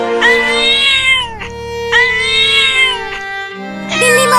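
A cartoon cat cries and meows in long, wavering wails, several drawn-out sobbing cries one after another, loud and close, with a bit of voice-like tone mixed in.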